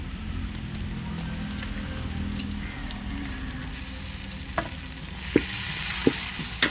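Ginger garlic paste hits a pan for a half-kilo chicken biryani and fries with a dense sizzle over a low rumble, while stirring clicks and taps grow sharper toward the end.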